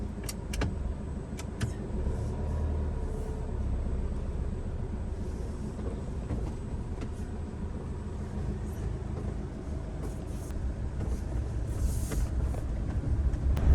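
A van drives slowly down a potholed road with a steady low engine and road rumble, broken by scattered knocks and rattles from the bumps. No one speaks.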